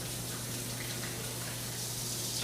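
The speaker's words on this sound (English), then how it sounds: "Just going to wash my spatula." Tap water runs steadily over a spatula being rinsed in a kitchen sink, a continuous close gush with no talking.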